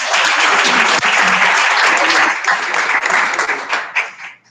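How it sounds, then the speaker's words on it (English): Loud, dense applause from a Toastmasters audience welcoming a speaker, a full wash of clapping that holds steady, then breaks into scattered claps and dies away at the close. "let's give him a hand of applause"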